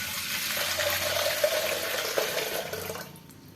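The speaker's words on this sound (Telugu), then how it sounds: "ఇప్పుడు ఒక బౌల్ తీసుకొని ఇందులోకి ఒక గ్లాస్ వాటర్ పోసి" A glass of water poured into a bowl in a home kitchen, a steady splashing pour that runs for about three seconds and then stops, with no talking.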